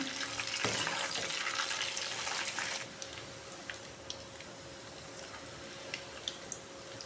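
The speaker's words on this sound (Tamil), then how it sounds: "மீடியம் ஃப்ளேமில் வச்சு பொறிச்சு எடுத்துக்கிடணும்" Meal maker (soya) chunks deep-frying in oil over a medium flame, a steady hissing sizzle that runs loud for about three seconds, then drops to a quieter bubbling with scattered faint pops and crackles; no talking.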